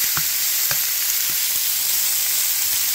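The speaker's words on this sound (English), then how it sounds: "I'm gonna put it back in the skillet. Finish browning it all." Cubed steak pieces browning in a hot skillet alongside caramelizing onions give a loud, steady sizzle and hiss, with a few soft knocks and stirring sounds near the start.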